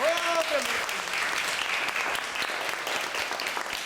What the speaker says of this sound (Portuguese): Ó, palmas pra turma!